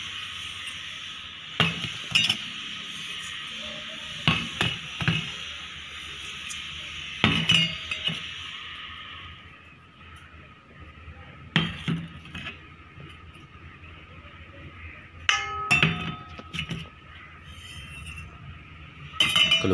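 Spoons clink against a bowl as coarsely crushed fennel, fenugreek, nigella and spices are mixed for amla gooseberry pickle, with scattered sharp taps and soft scraping stirs and a faint hiss in the background.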